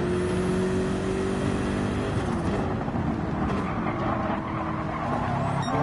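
Loud, continuous engine roar of a BMW race car circuit racing through corners, pitch rising and dipping as it brakes and accelerates, with tyre scrub and other car noise mixed in.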